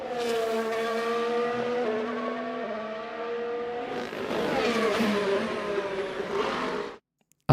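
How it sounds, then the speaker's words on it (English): Formula One race car engines from the 2024 season scream at high revs, pitch climbing and dropping through gear changes as the cars pass. The sound stays loud and continuous, then cuts off abruptly near the end. "As you can listen, it's car sounds"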